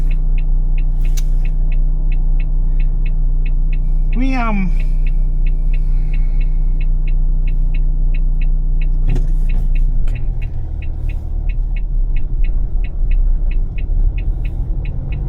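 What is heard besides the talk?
street traffic, lots of cars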